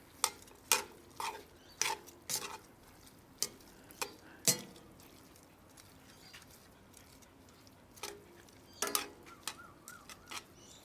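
Paella in a pan over a campfire is stirred with a series of sharp scrapes and knocks of a utensil against the pan, irregular and close, with quiet pauses between bursts and no talk.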